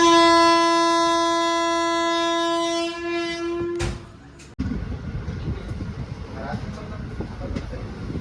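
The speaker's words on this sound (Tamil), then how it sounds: "அந்த ரயில் பயணம் அப்படி தான் போயிட்டு இருந்துச்சு" A passenger train travelling through hills opens with a long, loud horn blast that cuts off, then the carriage rolls on with a steady rumbling clatter of wheels on track, close by and continuous.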